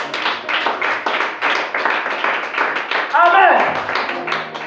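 A church congregation claps to acclaim Jesus during a French-language sermon, a burst of loud rhythmic group clapping with a shout rising through it near the end.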